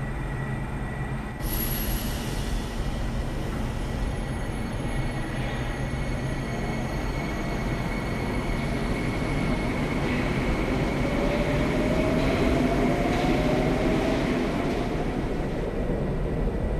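Metro train in the Metro Simulator 2020 video game running between stations, with a steady rumble of wheels on rails and rising squeals from the wheels, loud and continuous throughout with no talk.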